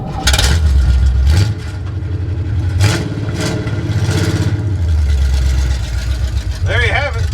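An old, long-abandoned Chevrolet C10 pickup engine runs as the truck is driven, a loud, steady rumble with low rises as it revs and pulls, close and continuous throughout.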